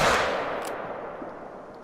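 Gunfire from a hunting video game: one loud burst at the start that decays with a reverberant tail over almost two seconds, with no talk over it.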